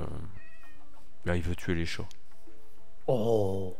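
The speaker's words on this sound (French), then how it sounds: "Ah bah c'est un chat." A cat meows in a video game, several drawn-out plaintive mews spaced apart, with a short spoken exclamation in between.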